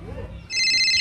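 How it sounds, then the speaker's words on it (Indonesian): A telephone starts ringing halfway through, a steady high electronic ring over low background murmur. "Telepon bunyi nih."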